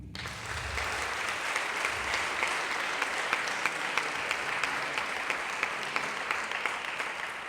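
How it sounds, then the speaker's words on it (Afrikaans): A school assembly audience claps for its thirty prefects, a loud, dense and even round of applause that starts at once and carries on without a break and without talk. "So ons kan die prefecte 'n klap gee."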